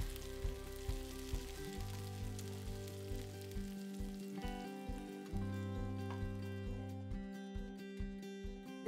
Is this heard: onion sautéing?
yes